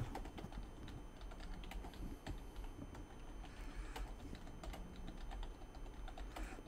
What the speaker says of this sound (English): Hold on, I'm typing.